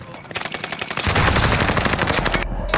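Rapid automatic gunfire in the Warzone video game on Rebirth Island, a loud sustained burst of closely spaced shots that grows heavier and denser before cutting off abruptly at the end.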